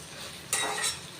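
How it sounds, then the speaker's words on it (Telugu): Tempering spices fry in hot oil for mango pulihora, a soft steady sizzle that swells briefly as the pan is stirred, close and fairly quiet. "చూడండి, పోపు చక్కగా ఎర్రగా వేగిపోయింది."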